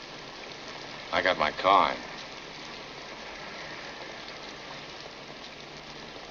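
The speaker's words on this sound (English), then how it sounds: "And it's raining pretty hard." Heavy rain makes a steady, soft hiss throughout. Partway in, someone briefly speaks over it.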